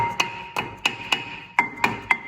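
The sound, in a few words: rubber hammer tapping brake disc off Mazda CX-5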